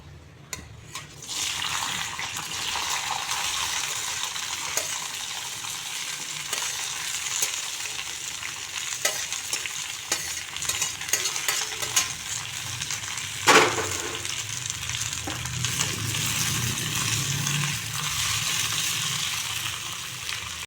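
Food frying in mustard oil in a wok, a steady hissing sizzle with scattered clinks and stirring noises, close and moderately loud, with a sharper burst of spitting midway and a deeper bubbling toward the end.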